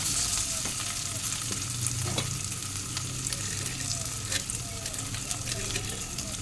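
Cumin and coriander powder fry in a hot pan with a steady, close sizzle that runs the whole time, broken by soft scrapes and stirring.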